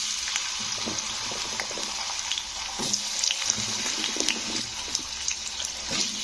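Washed, cut potatoes dropped into hot refined white oil, giving a steady, close hiss and crackle of frying that runs throughout with scattered louder pops and no talking.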